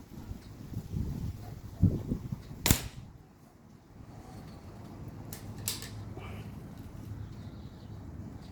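Two air rifle shots fired with JSB pellets outdoors: two sharp, brief cracks a second apart, followed by a louder snap near three seconds, with wind noise throughout.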